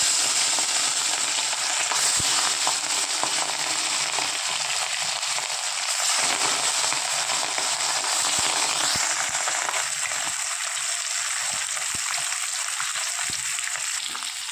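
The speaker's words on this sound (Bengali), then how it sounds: "এদিকে তেল গরম হয়ে গেছে, এক এক করে মাছগুলো ভেজে নেব।" Pieces of rohu fish frying in hot oil for a home-style Bengali fish curry, a loud, dense, continuous sizzle with scattered pops and crackles, close up and without talk.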